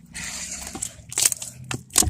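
Slime poked with four fingers, giving soft wet squelches and sticky crackly pops in a few quick, close bursts, with quiet gaps between them.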